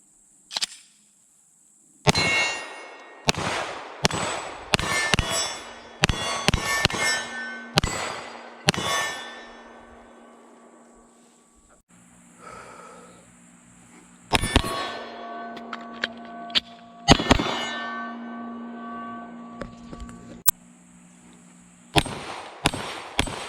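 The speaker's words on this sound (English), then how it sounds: "All right, we're back here at 7 yards. Let's try out the Glock 34." Glock 34 pistol shots fired at steel targets from 7 yards outdoors, a string of sharp loud cracks each followed by a ringing metallic clang, in irregular bursts with short pauses between strings.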